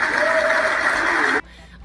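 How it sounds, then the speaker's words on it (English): An audience breaks into loud, steady applause that ends abruptly, cut off sharply after little more than a second. "Clap for that"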